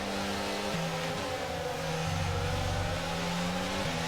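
An F1 car on a fresh engine in the F1 22 video game at the French GP, its engine note droning and shifting pitch through gear changes as it accelerates, steady and mid-level with no voices.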